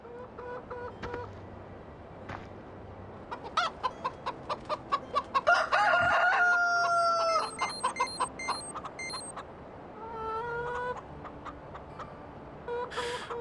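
Chickens in the Farming Simulator 13 game cluck in quick rhythmic bursts, with a rooster crowing once midway and more clucking afterward, all fairly close and without speech.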